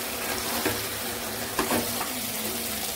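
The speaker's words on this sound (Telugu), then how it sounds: "కొంచెం వాటర్ పోసుకోవాలి, సగం గ్లాసు." Water poured into a bowl while making brinjal masala curry gives a soft, faint splash with brief louder gushes over a low background hiss, and nobody speaks.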